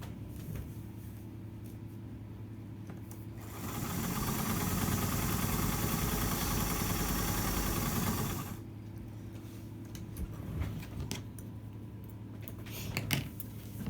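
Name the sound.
sewing machine stitching a fabric strip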